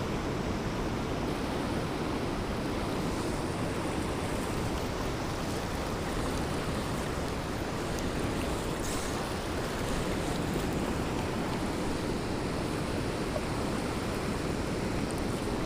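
Waterfall and heavy river current where a fly fisher casts for brown trout and salmon, a dense, constant rushing roar that stays loud and unbroken throughout with no voices.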